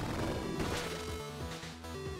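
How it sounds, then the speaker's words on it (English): Shock explosions from the Cyber Shadow video game burst in as a few short crashing impacts, layered over steady, tonal game music. "Shock explosions."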